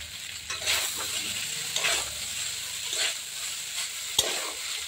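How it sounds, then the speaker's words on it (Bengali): Chow mein noodles for egg chow mein being fried in a pan, a continuous hissing sizzle with periodic spatula scrapes and tosses, close and fairly loud, no talking. "এই যে চাউমিনগুলো এখন ভেজে নেব"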